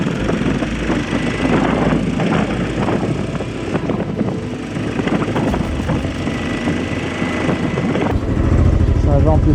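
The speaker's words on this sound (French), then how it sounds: "pas besoin d'avoir l'oreille musicale pour entendre que la mélodie jouée par mon moteur sonne totalement faux" A rough, uneven, misfiring motorcycle engine runs close by, its rumble sputtering and irregular, then swelling louder near the end, on a road trip in the Pyrenees.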